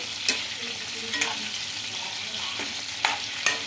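Brinjals frying in plenty of oil in a pan give a steady, close hiss of sizzling that runs throughout, with a few sharp pops and crackles standing out above it.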